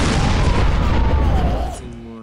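A 1,000-pound bomb exploding in Garry's Mod, one massive close boom with a rolling rumble that trails off over a couple of seconds.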